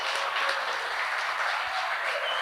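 A wrestling crowd applauds the Hardy Boys with steady, dense clapping that stays fairly soft and even throughout.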